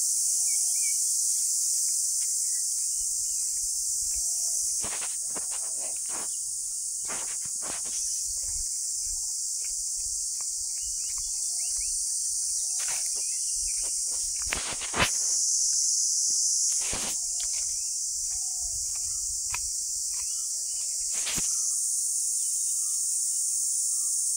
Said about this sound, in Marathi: बघा रातकिड्यांचा आवाज कसा एकदम जंगलामध्ये छान वाटतो ना